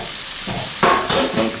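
Garlic stirred briefly in a hot pan while making a chicken and wild mushroom lasagna, giving a steady sizzle with a couple of scraping stir strokes, close and fairly loud, with no voices.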